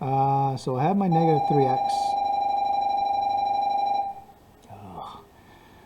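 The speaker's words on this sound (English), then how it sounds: "Oh, that's a school bell." An electronic school bell sounds during a math lesson: a single steady electronic tone rings for about two seconds right after a teacher speaks, then cuts off, followed by faint murmuring.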